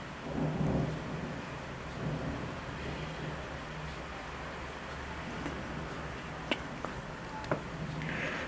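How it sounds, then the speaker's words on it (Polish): A thunderstorm over Łowicz sounds as a faint, distant low rumble of thunder under steady soft background noise, with a few sharp ticks and no voices. "Teraz było dużo piorunów, ale bez deszczu"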